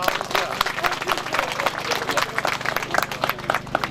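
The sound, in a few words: audience applause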